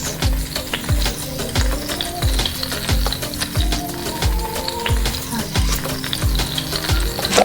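Whole spices toast and sizzle in a pan in the cooking game Venba, a steady close crackle with a regular rhythmic stirring tick running throughout, no voices.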